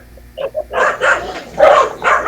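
Dog barking in short repeated bursts, fairly close and loud, with a few smaller yips at the start.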